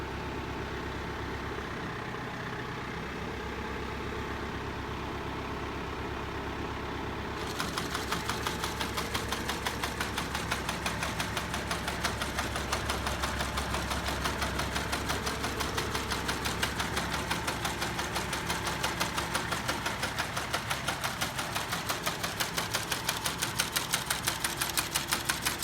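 A Massey Ferguson 2860M tractor idles steadily while driving a mounted John Deere mower through the PTO, a continuous close mechanical rumble with a rapid ticking knock that grows louder and busier partway through.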